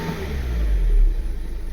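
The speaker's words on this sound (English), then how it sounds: "So the engine now is running perfect" A VW Tiguan 2.0 TDI diesel engine idles close by, a steady low rumble that swells slightly and then settles.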